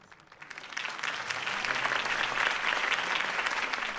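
Applause from a crowd after a campaign speech in the video game Batman: The Telltale Series, swelling in from a quiet start into steady, dense clapping that holds to the end.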